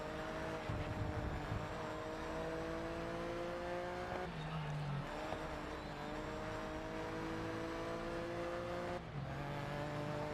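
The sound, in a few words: race car engine revving in video game GRID Legends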